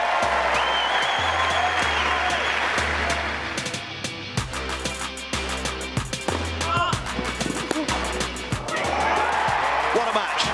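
A crowd on Wimbledon's court two rises in a standing ovation, sustained loud clapping that thins midway and swells again, with someone talking over it.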